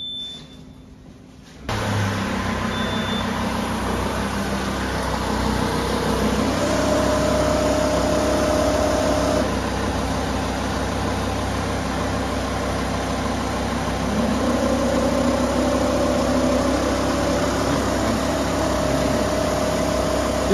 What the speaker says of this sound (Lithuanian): dabar jisai prašo mūsų užkurti variklį